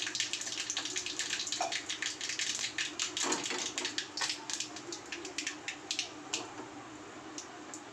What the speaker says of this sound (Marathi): आता मोहरी चांगली तडतडली